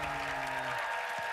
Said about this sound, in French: C'est pour toi, ces applaudissements-là.